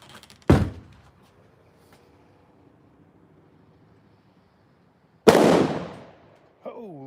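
Two loud firecracker blasts go off outdoors on New Year's Eve eve, one sharp bang near the start and a bigger, longer explosion toward the end, with quiet rumble between and a voice breaking in right after.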